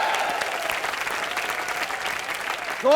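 Studio audience applauding on a live comedy show, dense steady clapping from a large crowd filling the whole stretch, loud and close, with a voice starting at the very end.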